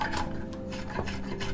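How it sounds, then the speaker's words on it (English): A spokeshave shaves wood with a continuous close rasping scrape, rough and steady across the short stretch with slight rhythmic strokes and no voices. "So basically then you can just get your spoke shave."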